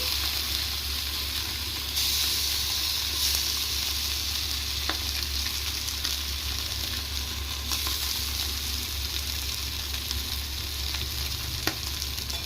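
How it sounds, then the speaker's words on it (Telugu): Fish pieces fry in oil on a tawa, beach-style, giving a continuous close, loud sizzle and hiss with occasional pops and crackles, steady throughout with no talking. "అదే విధంగా నేను మిగిలిన చేపలు కూడా వేసుకొని ఫ్రై చేసుకోవాలండి."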